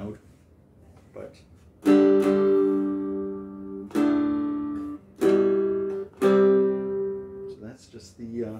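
A cigar box guitar with a single coil pickup, played through a small portable amp, rings out in four or five separate strummed chords, each decaying before the next, with quiet gaps between.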